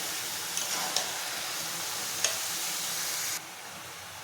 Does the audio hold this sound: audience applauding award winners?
no